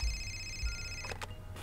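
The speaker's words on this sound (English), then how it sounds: "Answer the phone." Telephone ringing in the Indigo Prophecy video game, heard as a steady electronic ring that cuts off, followed by a couple of short clicks, over low background hum with no speech.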